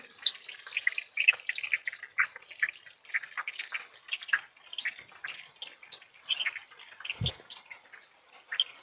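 Pieces of surmai fish shallow-fry in a pan, giving scattered light crackles and sharp spitting pops at an uneven pace, close by and fairly quiet.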